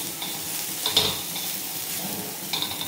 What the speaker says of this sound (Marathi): आणि परत ह्या साईडनं पण आपल्याला चांगला लालसर होईपर्यंत भाजून घ्यायचं